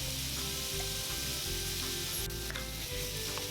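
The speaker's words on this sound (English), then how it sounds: "we're gonna add the vegetable oil and add the shrimp inside the pan" Shrimp and garlic fry in vegetable oil over high heat in a pan, giving a steady, loud, close sizzle that runs throughout with faint occasional clicks and no talking.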